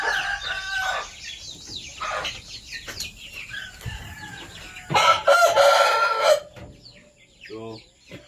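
A Dumpo chicken stag on a farm clucks and crows in repeated bursts close by, with a louder, busier stretch of calls midway and quieter clucks toward the end.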